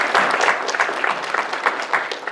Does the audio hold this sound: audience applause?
yes